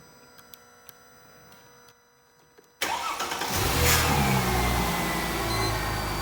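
A Mercedes CLK320 with a bridged relay cranks briefly after a few faint clicks, then catches and fires up into a loud, steady idle close by, with no talk.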